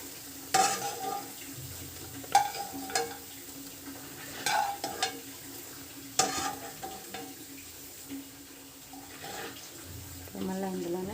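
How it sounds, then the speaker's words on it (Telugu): Spices tempering in hot oil in a pan for a meal maker soya chunk curry, with sharp crackles and sizzling bursts that flare and fade several times over a steady low kitchen hum. "ఇప్పుడు పోపు దించి వేసుకుంటున్నాం"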